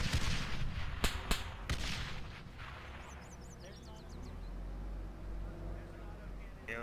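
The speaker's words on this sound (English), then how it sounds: "Yeah, they're shooting infantry." A few sharp shots crack out early in a combined-arms ArmA 3 multiplayer battle, followed by a steady, droning vehicle engine, with voices talking over the action.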